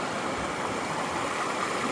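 Lima Creek on the Pacific Crest Trail between Snoqualmie Pass and Stevens Pass rushes past a log crossing where a bridge washed out, a steady, close, full-bodied roar of flowing water with no voices.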